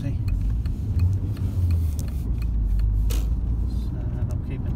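Car with a low-speed vibration fault driving slowly on private property, a steady low rumbling drone with a faint rattle, heard up close from inside and never changing pace.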